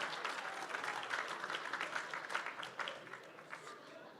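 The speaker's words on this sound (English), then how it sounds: "could you guys give one more huge round of applause to all of our contestants today" Audience at the Lone Star Open Auctioneer Championship in Fort Worth applauds the auctioneer contestants with a steady, dense round of clapping that holds for several seconds, then tapers slightly.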